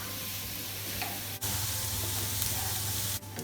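Onions and thyme frying in a pan while being stirred constantly, a soft steady sizzle with faint scraping and a couple of brief clatters of the utensil.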